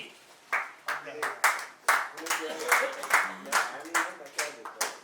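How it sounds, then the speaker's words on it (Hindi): Rhythmic hand clapping at a college commerce batch reunion, a steady run of fairly faint claps with some voices mixed in. "तालियां बजती रहनी चाहिए।"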